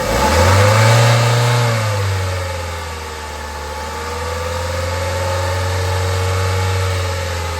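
2016 Chevy Silverado engine revved from idle to about 2,500 RPM, a loud close rise in pitch that eases off and holds a steady elevated hum, wavering slightly, with no talking.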